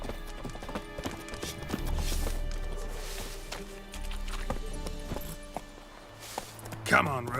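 Horse Roach gallops in the Witcher 3 video game, a steady clip-clop of hooves running under a voice, with game sound effects and a brief sharper burst near the end.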